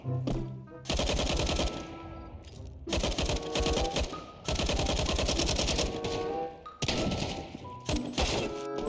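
Video game gunfire cracking in rapid automatic bursts, loud and close, separated by short pauses with game effects underneath.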